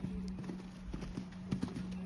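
A horse named Bob galloping, hooves clip-clopping in a quick, uneven rhythm at close range, with a few louder thuds, heard alone.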